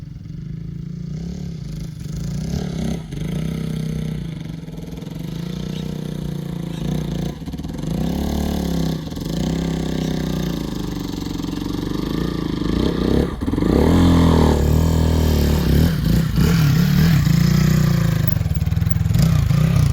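Hero Xpulse motorcycle fitted with a big bore kit being ridden at easy throttle, its mid-pitched engine droning steadily and close throughout, swelling slightly louder with rising revs near the end.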